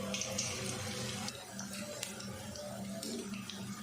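Aloo palak pakoras, potato and spinach fritters in a gram flour batter, sizzling and bubbling steadily in hot oil, a continuous close hiss with faint crackles throughout.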